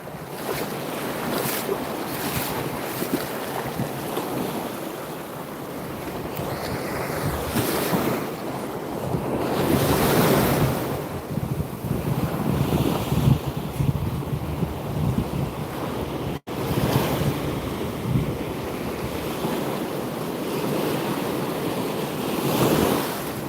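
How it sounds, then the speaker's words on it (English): Ocean waves breaking on a beach during surf fishing, a loud roar of surf surging and washing in repeated swells, heavy wind buffeting the microphone throughout, no voices. "I gotta face the waves."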